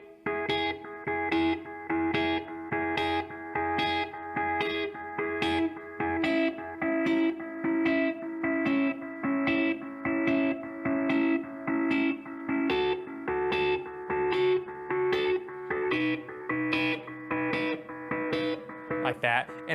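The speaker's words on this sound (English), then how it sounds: "I'm going to move my pickup up to my neck to give me a muffled feel" An electric guitar on the neck pickup plays a muffled rhythm part from the worship song Hosanna, with regular strummed chords pulsing at a steady beat, close and moderately loud, no voices.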